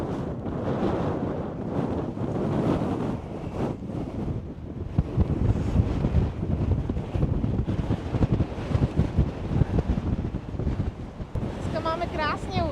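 Strong wind at a lookout in Waterton Lakes National Park, southern Alberta, buffets the microphone in a constant roaring rush throughout, with faint talk buried underneath.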